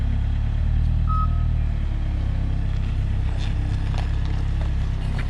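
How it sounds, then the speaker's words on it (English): Small forklift on a new house build site driving forward: a steady, loud low engine drone that holds even throughout, with no talk. "That's such a tiny, cute forklift."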